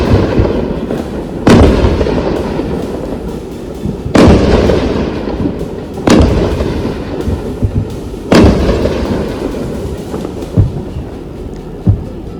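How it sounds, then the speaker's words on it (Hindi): Explosions from a drone attack in Amritsar recorded on a mobile phone: four heavy distant booms spaced a couple of seconds apart, each rumbling out over a constant low roar of background noise. "एक बार सुनते हैं आवाज किस तरह से धमाके की आ"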